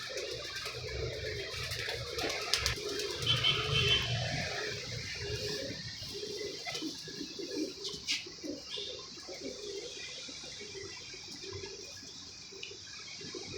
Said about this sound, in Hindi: क्रीच ही पे कबूतर है ना